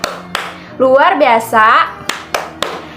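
Sharp, bright hand claps from a classroom-style clap cheer, with single claps at the start and a quick run of claps near the end, while a voice speaks and chants in the middle.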